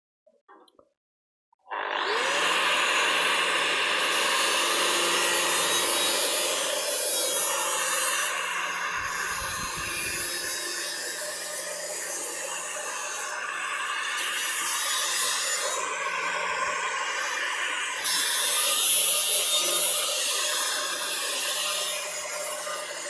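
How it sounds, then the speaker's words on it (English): Power tool deburring the straight edge of a metal piece, a steady loud abrasive grinding hiss that runs continuously for about twenty seconds after a short quiet start, with slight shifts in pitch and pressure. "let's get on with deburring the straight edge."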